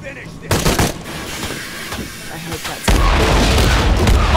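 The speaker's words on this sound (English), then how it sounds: "A big explosion." A big explosion in the video game Shadow of the Tomb Raider, two heavy booming blasts, one near the start and a louder sustained roar later, amid gunfire-like bursts.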